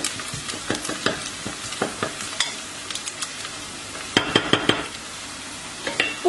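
Fresh green beans stir-fried dry in a pan with no added water, with a steady sizzle and repeated sharp scrapes and clacks of a spatula stirring, close and alone.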